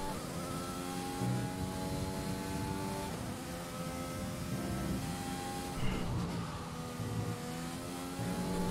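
Formula 1 car engine from a racing video game screaming continuously through upshifts and downshifts, loud and sustained, with a voice faintly underneath at times.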